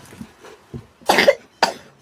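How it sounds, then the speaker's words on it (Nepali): A person with a cold coughs twice in sharp, loud bursts after a few soft breaths and faint throat sounds, close by and with no talk over it, in a village setting. "खोक्दैछ, चिसो खाएको छ"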